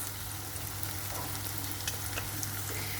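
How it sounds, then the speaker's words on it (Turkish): Onions frying in a pan with tomato paste and chili powder, a steady dense sizzle with faint stirring scrapes, close and continuous. "Şimdi içine bir tatlı kaşığı salçamızı ve toz biberimizi koyup 5 dakika daha kavuracağız."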